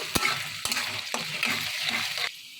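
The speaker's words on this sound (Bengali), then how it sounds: "তেলটা আমার একটু গরম হয়ে এসেছে, এই পর্যায়ে আমি গাজরের টুকরোগুলো দিয়ে দেবো। নেড়ে দেবো আমি।" Carrot pieces fried in hot oil for fried rice, stirred with sharp utensil knocks against the pan over a continuous sizzle; close and clear, the sizzle easing near the end.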